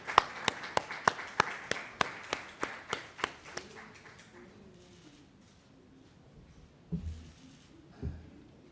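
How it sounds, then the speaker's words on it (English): Audience applause at the Intra-African Trade Fair 2021 roadshow in Durban, a burst of sharp, evenly spaced claps that thins out and fades after a few seconds, followed by quieter room noise and a couple of soft knocks. "Let's give them a big round of applause."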